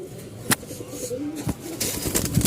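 Lotan pigeons coo softly and repeatedly at close range, a low burbling call over faint background noise with a few handling knocks.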